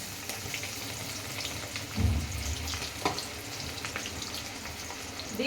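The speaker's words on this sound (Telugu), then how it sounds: "ఫ్రై కదా కొన్ని కొన్ని వేయాలి ఒకేసారి వేస్తే ఇదైతే దూరం మంచి గోల్డెన్ కలర్ వచ్చే వరకు వేసుకుందాము" Gram and rice flour battered bitter gourd slices frying in hot oil, giving a steady soft sizzle and crackle with a brief louder bump as pieces go in, no voices.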